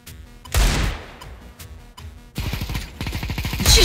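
Pistol shots from a first-person shooter game ring out in quick bursts, loud and close, with sharp cracks and echoing tails, several rapid volleys near the end.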